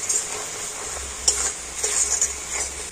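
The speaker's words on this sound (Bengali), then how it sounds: "আর এবার আমি এইভাবে নাড়াচাড়া করে না সুন্দর একটা পুর তৈরি করে নেব।" Jaggery filling is stirred in a pan with a utensil, giving close scraping and soft clinking strokes over a faint sizzle, several distinct scrapes in quick succession.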